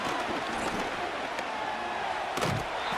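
A stadium crowd in a Madden 25 football game between the Texans and Buccaneers roars in a dense, steady wash of noise, with a brief thump partway through.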